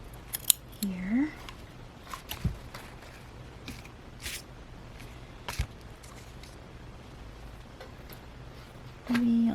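Scissors snip paper for a junk journal page in a couple of quick, close cuts over a soft room hiss, with brief bits of quiet crafting handling.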